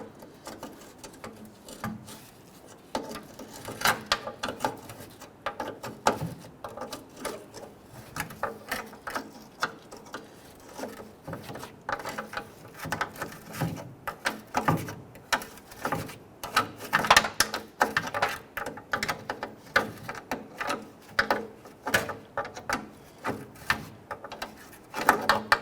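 Ratchet working bolts on the spare tire hoist of a Nissan Frontier, giving long runs of quick, uneven clicking close by, steady throughout with no talk.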